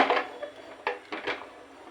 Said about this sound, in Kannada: ಸ್ಟವ್ ಮೇಲೆ ಪಾತ್ರೆ ಇಡೋಣ